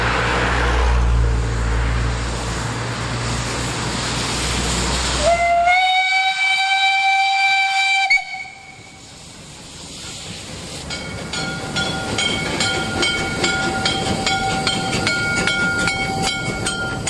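A steam locomotive on a German museum railway sounds a loud, sustained whistle amid the rumble of a passing train, with steady rolling and clattering before and after the blast.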